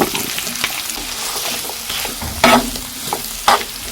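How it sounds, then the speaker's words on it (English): Apple pieces hitting hot browned butter in a pan for turnover filling, a loud close sizzle with two sharp bursts as more fruit drops in and a few stirring scrapes. "I feel like my butter is just ready. I'm going to go in with my apples"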